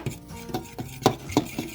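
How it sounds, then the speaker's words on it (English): A spoon or fork stirring lemon juice, Dijon mustard, balsamic vinegar and minced garlic in a bowl, giving a few quick, close clinks and scrapes in an uneven rhythm. "Mix all this together."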